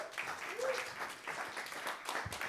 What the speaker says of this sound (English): let's give a welcome applause for Loek